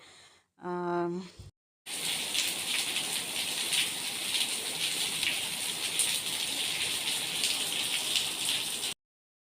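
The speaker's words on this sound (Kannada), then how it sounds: "ಮಳೆ ಕೂಡ ಬರ್ತಾ ಇದೆಯಲ್ವ" Steady rain falling, a dense broadband hiss that runs for about seven seconds after a brief burst of voice-like tones at the start, close and fairly loud throughout.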